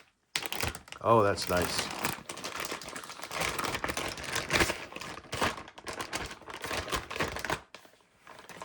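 Plastic packaging of a Brother TN830-compatible toner cartridge crinkles and rustles as the seal is opened by hand, with steady close-up crackling and a brief spoken remark.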